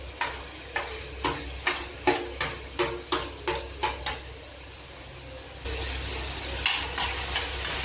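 Vegetables with capsicum are stir-fried on high flame for spring rolls, with a rhythmic run of about a dozen sharp spatula scrapes over a steady sizzle, then a louder burst of frying and a few more strokes, no voices.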